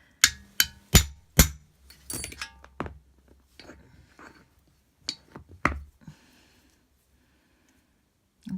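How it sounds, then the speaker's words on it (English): A jobbing hammer strikes a disc punch cutting sterling silver: a run of sharp metallic blows, four in quick succession and then scattered lighter taps and clinks, close and loud with quiet gaps between them. "Using my jobbing hammer, not one of my nice jeweller's hammers."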